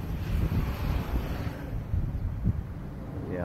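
Gusty wind buffets the microphone outdoors near a wildfire, a continuous low rumble with a few stronger surges and no voices.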